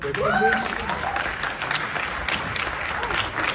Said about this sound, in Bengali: এই দুজনের জন্য একটা হাততালি।